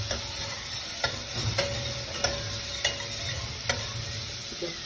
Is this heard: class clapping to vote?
no